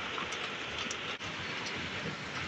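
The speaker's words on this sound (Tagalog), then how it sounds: "Lakas ng ulan, no?" Heavy rain falls steadily in a dense, even hiss with scattered drops striking a surface nearby, continuous and fairly quiet throughout.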